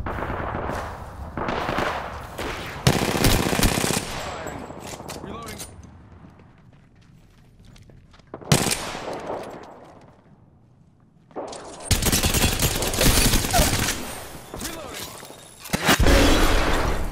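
Bursts of automatic gunfire in Apex Legends come in loud, dense stretches separated by quieter pauses with scattered single shots, and a voice talks at times.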